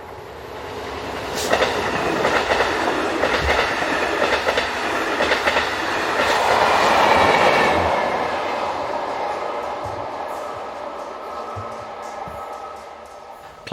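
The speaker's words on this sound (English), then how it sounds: "This is train IC 1518 to Liège." Intercity train IC 1518 bound for Liège rolls past on a Belgian line, with a rhythmic clickety-clack of wheels that swells as it draws near, a faint squeal, and a steady rumble fading as it goes.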